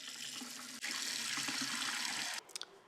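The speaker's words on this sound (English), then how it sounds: "I just use water straight out of the tap." Lukewarm tap water runs steadily into a gluten-free bread mix for nearly two and a half seconds, a continuous close hiss that cuts off abruptly near the end, followed by a few faint drips.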